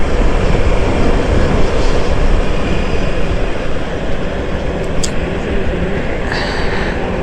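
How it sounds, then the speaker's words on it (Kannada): A train passes on the tracks overhead near the Hospet tunnel, heard from the road below as a loud, steady rumble that fills the whole stretch without letting up. "ಟ್ರೈನ್ ಹೋಗ್ತದಲ್ಲೋ"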